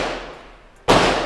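A single loud, sharp shot from a Turkish Ata Arms Neo 12 shotgun firing a 12/70 Karat slug cracks close by, following the fading echo of an earlier blast and ringing out briefly afterwards.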